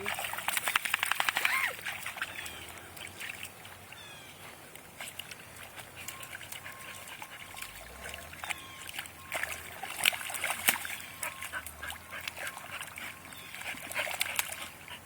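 A dog splashes through a mud puddle outdoors, making repeated wet splashes and sloshing at varying distances, with a burst of louder splatter early on and scattered splashes after.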